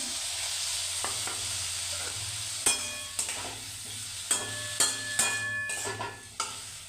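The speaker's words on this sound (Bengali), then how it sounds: "মশলাটার সাথে আলুটাকে ভালো করে কষিয়ে নেব।" Potatoes with ground spices and onion fry in a pan with a steady sizzle, while a spoon stirs and scrapes, giving several sharp clinks against the metal at irregular intervals.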